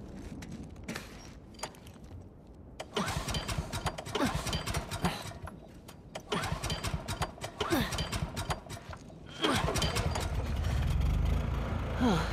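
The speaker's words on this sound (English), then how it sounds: "Found the generator." A generator engine starts up in the video game The Last of Us Part II, with bursts of mechanical clatter, then a steady, loud running rumble in the final seconds.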